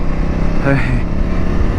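A CFmoto 800NK motorcycle engine drones steadily while riding in Sport Mode, with a brief throttle rise in the middle, and a voice talking over it throughout.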